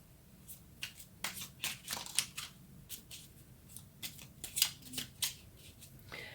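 Tarot cards shuffled by hand in a quiet room, giving a run of quick, crisp riffling and slapping bursts at an irregular rhythm, close and fairly soft, with no talking.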